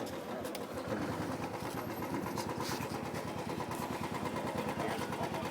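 An engine idles with a steady, even pulsing chug, held at a constant speed throughout, moderately quiet and heard up close.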